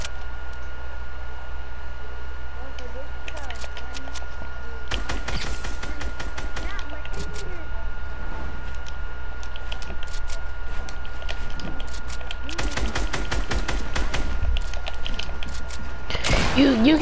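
Guns fire in Fortnite in rapid bursts, dense clusters of sharp cracking shots spaced through the clip over a steady background hum, with faint voices heard.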